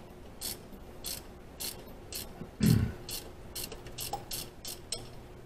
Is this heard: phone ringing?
no